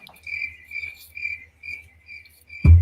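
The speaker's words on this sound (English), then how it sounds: "I got to remember to hit the crickets" Chirping crickets used as a sound effect to fill a dead-air moment, a steady rhythmic trill in short bursts, fairly clear and alone, cut off by a sudden loud knock at the end.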